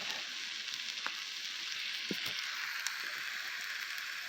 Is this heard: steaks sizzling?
yes